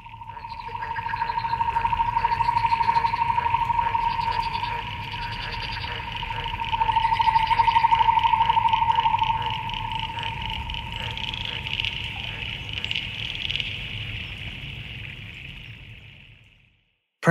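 A created sound effect evoking frog parenting layers a steady high tone with rhythmic croaking, chirping pulses and a low rumbling bed, fairly loud and continuous for most of its length before cutting out abruptly.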